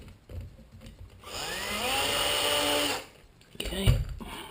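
Power screwdriver backing screws out of the cover strip on a pool table bed, a rising whine that holds for nearly two seconds then stops, with brief handling noise and a short burst after.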